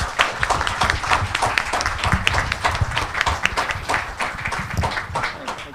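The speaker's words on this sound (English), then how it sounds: "please give our panelists a warm round of applause." Scattered audience applause for panelists at a workforce talent panel, with uneven clapping that rises and falls over the whole stretch at moderate volume in an event hall.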